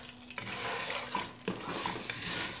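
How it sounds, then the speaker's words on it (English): Saravle and cardamom roasting in ghee over slow heat, a steady close sizzle with stirring scrapes and a few light clinks of a spoon against the pan, no voices. "on a slow heat I'll roast them till they turn light brown"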